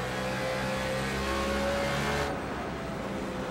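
A stock race car comes off a corner with its right rear tyre spinning, the engine roaring loud and close at high revs for a couple of seconds before the sound drops back.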